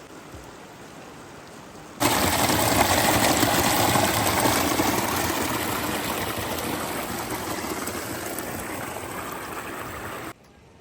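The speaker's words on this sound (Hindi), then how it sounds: "खूबसूरत सा झरना।" A mountain waterfall stream on a Himalayan trek rushes as a loud, steady broadband roar that starts abruptly, holds for about eight seconds, slowly softens, then cuts off, with no talk.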